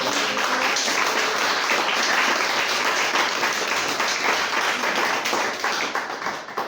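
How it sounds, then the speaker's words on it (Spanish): A church congregation claps together in loud, dense applause that holds steady for several seconds before tapering off at the end. "¿Alguien puede darle un fuerte aplauso al Señor?"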